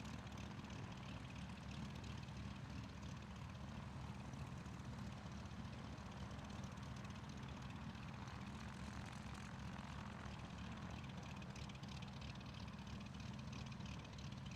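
Steady propeller-driven drone of a small airplane engine at a STOL qualifying competition in Brainerd, Minnesota, holding an even, continuous roar throughout with no speech over it.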